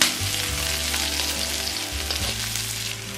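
Garlic cloves and onion sizzle and fry in oil in a pan, a continuous close crackling hiss with a low electrical hum beneath, no speech.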